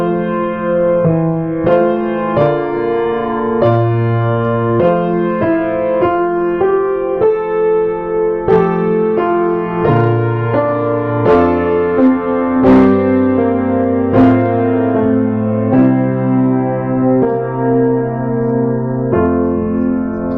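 Four-part chorale played straight through on a keyboard, with chords moving through passing, neighbor and suspension tones in a steady, unhurried rhythm, loud and close with no voices.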